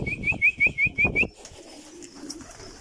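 Pigeons in a loft give a run of about six rhythmic, rounded coos close by, followed by quieter rustling and faint chirps.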